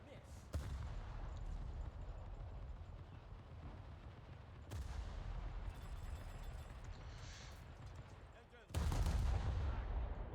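USS Pensacola cruiser in a video game firing full broadsides: three heavy booming gun blasts spaced several seconds apart, each a loud, broad crack over a continuous low rumble of battle noise.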